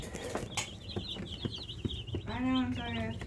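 Cornish Rock meat chickens cluck and chirp in short calls close by, with louder peeping near the end, while people talk intermittently over them.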